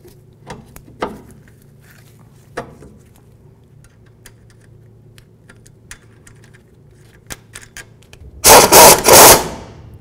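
Upper ball joint nut on a 1984-2001 Jeep Cherokee being tightened: a few scattered light clicks and taps, then a loud, close, rattling burst of about a second near the end.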